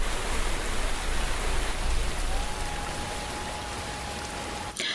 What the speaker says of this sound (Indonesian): Saat Lee mengajak Markus ke air terjun